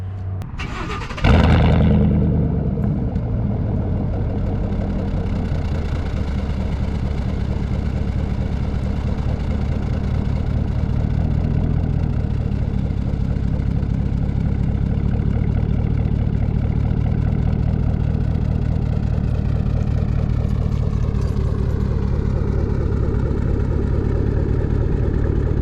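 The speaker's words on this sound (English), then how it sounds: "it's a deeper tone from the stock tips, from those warm starts and just the warm idle" A 2020 V8 truck starts up and settles into a deep, steady warm idle through stock quad exhaust tips, the loud low rumble continuing evenly throughout.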